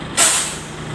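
Compressed air bursts out with a sudden loud hiss while the brakes on a Hino Lohan truck are bled, the blast fading over under a second above a low engine hum.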